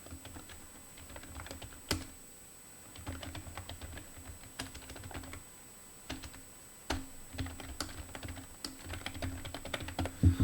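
A meeting title being typed on a computer keyboard, heard as a steady run of close, crisp key clicks with brief pauses between bursts and no voice.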